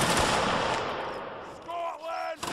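Musket volley in a line-battle game set among the 51st and 42nd regiments: a dense burst of overlapping gunfire cracks at the start, fading into rolling smoke-filled rumble, with faint voices and tonal battlefield sounds trailing after.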